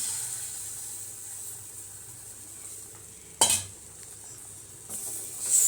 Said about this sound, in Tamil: ஸோ இப்போ இது எல்லாத்தையும் நல்லா வந்து மிக்ஸ் பண்ணி விட்டுக்கலாம்